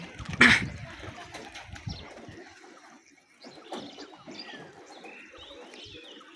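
Pigeons kept by their owner shuffle and call close by, with a sharp loud burst early on, then softer scattered chirps and faint movement noises.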